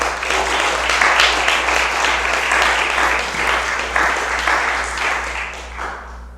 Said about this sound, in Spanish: Pues déle un aplauso.